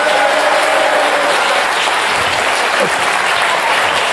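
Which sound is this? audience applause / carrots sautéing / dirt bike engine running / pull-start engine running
audience applause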